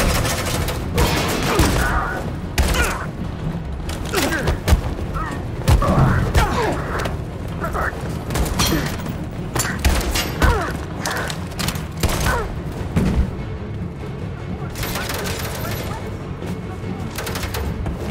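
Video game gunfire in Detroit: Become Human, loud repeated shots and thuds crackling through a tense firefight, with shouted voices mixed in among the bursts.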